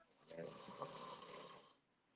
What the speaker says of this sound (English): Babe, you loud snoring.